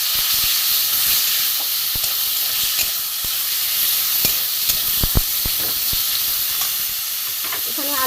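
Mashed boiled beans frying in a pan for kebab produce a steady, fairly loud hiss and sizzle with scattered sharp ticks and spatula clicks throughout.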